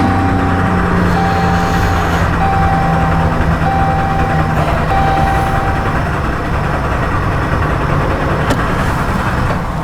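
A 2011 RAM 2500 with a 5.7L engine and a misfire cranks steadily with the throttle held wide open. The starter grinds in a continuous, even drone with a faint tonal whine above it, loud and close, with no talking.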